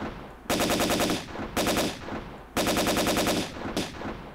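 Video game gunfire in four loud automatic bursts of about a second each, separated by short gaps and cutting off sharply, with no talk over them.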